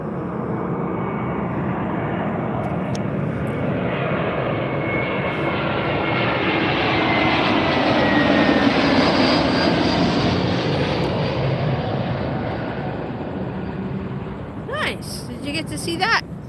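A JetBlue airliner in special livery passes at Las Vegas airport, its engine roar building to a loud peak mid-pass and then fading, with a brief burst of other noise near the end.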